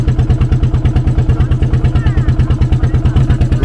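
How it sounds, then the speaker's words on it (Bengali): A small dinghy's outboard engine thuds in a fast, even, loud chug, close and steady throughout the sea crossing. "একটা ছোট্ট ডিঙি নৌকাতে করে আমরা চলেছি"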